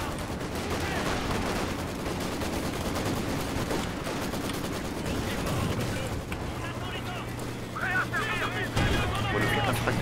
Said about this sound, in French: Qui a réussi à piquer une mitrailleuse là.